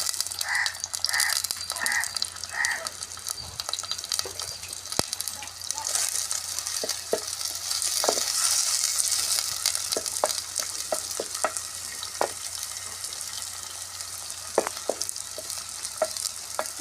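A medium onion frying in oil in a pan for chicken fry: a continuous close sizzle with scattered clinks and scrapes from stirring, a few short tonal chirps near the start, no speech.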